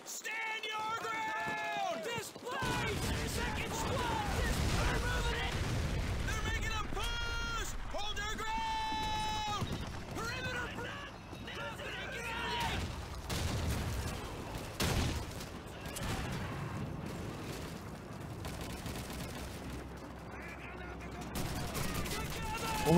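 Call of Duty 2 combat rattles with bursts of gunfire and bomb blasts over a steady noisy backdrop, while someone talks excitedly throughout and yelling voices rise in the background.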